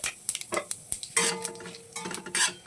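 A tablespoon of whole cumin seeds goes into hot oil with dry red chilli, cardamom and cinnamon while cooking khichuri, giving a short sizzle amid scattered metal clinks and scraping stirs of a spoon against the pan.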